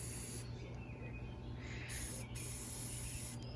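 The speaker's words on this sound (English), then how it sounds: "And spray, spray, spray." A steady hiss of a spray bottle spraying tie-dye fills the clip, with brief pauses and a few bursts, fairly close and continuous.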